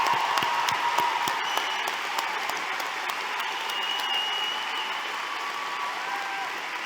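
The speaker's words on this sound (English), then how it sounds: "Give them a round of applause." A large graduation ceremony crowd at a high school claps continuously in a big hall, a broad even roar of applause with some sharp close claps near the start, gradually settling without speech.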